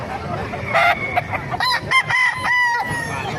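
A hatch gray gamecock rooster crowing up close and loud, with several pulsed crow phrases and clucks over a busy background of other fowl, without talk.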